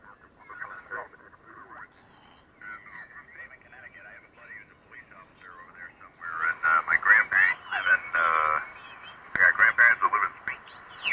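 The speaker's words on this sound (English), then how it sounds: "You can hear the interference go away as I narrow the filter." A ham radio receiver (enhanced 8-band W7ZOI Progressive design) tuned to the 40-meter sideband segment carries whistling, garbled interference over a narrow band. The noise grows louder and choppier with bursts of distorted signal toward the end, and no clear talk is heard.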